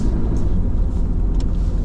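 A steady, low engine rumble and road noise from inside a car driving at night, continuous and fairly loud with no talking.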